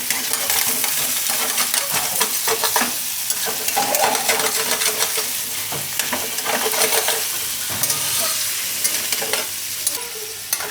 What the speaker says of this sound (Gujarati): થોડુંક એનો આ રીતનો કલર થાય એવું શેકી લેવાનું